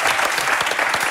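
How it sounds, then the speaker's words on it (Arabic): Applause from a studio audience for Si Kamal, a guest on a Tunisian TV show, dense steady clapping heard close and loud for about a second with no voices. "تصفيق على سي كمال"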